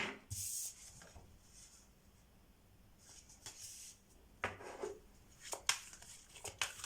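Soft papery riffling and slapping of tarot cards being shuffled in several short bursts, close by and quiet, with pauses between.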